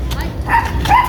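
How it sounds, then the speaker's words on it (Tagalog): A dog barks and yips in short bursts close by, on a street walk at night among several dogs, with a faint voice in the background. "Uy, aso."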